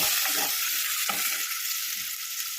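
Onions sautéing in a pan for Kumbakonam kadappa, a loud steady sizzle with a few low scraping strokes of a spoon.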